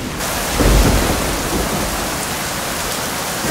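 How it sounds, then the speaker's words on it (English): Heavy rain pours down in Phuket, Thailand, in a dense, continuous roar, with a deep rumble swelling briefly near the start. "it started pouring rain"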